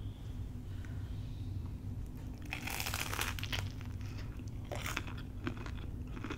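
Crisp, crackly crunching as someone bites into and chews an open-faced cheesesteak close to the mic, with bursts of crunch over a steady low hum and no talking.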